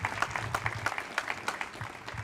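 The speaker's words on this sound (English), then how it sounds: "Let's give Laura a round of applause." Applause from an audience at a school district Teacher of the Year ceremony, a steady patter of clapping with scattered louder claps, moderately distant and fairly quiet.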